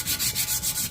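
Hand sanding bare metal with 180 grit sandpaper, a steady rhythmic scratching of about six quick back-and-forth strokes, close and loud with no talking.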